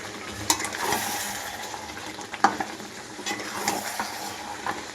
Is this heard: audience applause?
no